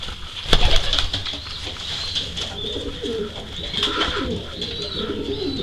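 Racing pigeons cooing in a loft, soft repeated coos up close with some chirps and a brief burst of wing noise near the start, over a low steady background.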